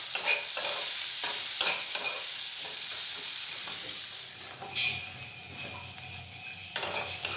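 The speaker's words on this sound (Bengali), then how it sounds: "দিয়ে পেঁয়াজটা একটু ভালোভাবে নাড়াচাড়া করে নেব।" Sliced onions with two split green chillies sizzle steadily in a hot pan while a spoon stirs and scrapes through them, a continuous close frying hiss with occasional clinks of utensil against metal.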